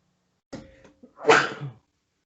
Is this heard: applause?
no